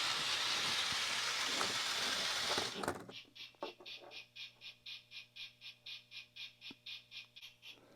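A Marklin 29730 HO scale model steam train from a starter set rattles along its track with a rapid, regular clicking rhythm, following a loud burst of hissing steam that cuts off abruptly.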